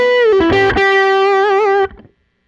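A Teye electric guitar plays a loud, sustained distorted solo phrase with the mood knob and volume turned up, wailing for nearly two seconds before cutting off abruptly.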